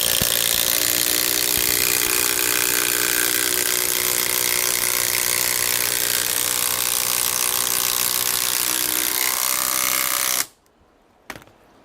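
A Makita TD004G impact driver hammers a long stainless steel timber screw, a loud, dense, continuous rattling burst for about ten seconds that cuts off abruptly, followed by a brief faint mechanical noise.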